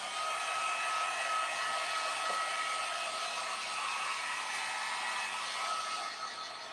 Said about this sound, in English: So I'm going to dry it with my heat gun.